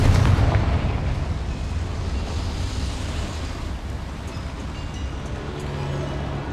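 A Confringo fire spell explodes in the Hogwarts Legacy video game beside a boiler, a loud booming blast that decays into a long rumbling roar filling the whole stretch.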